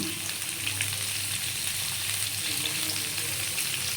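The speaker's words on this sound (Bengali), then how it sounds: "ভালো করে একটু ভেজে নেব। নুন দিয়ে দিলাম," Papaya and potato pieces fry in oil with salt, a soft steady sizzle with light crackling, fairly quiet and continuous with a low hum underneath.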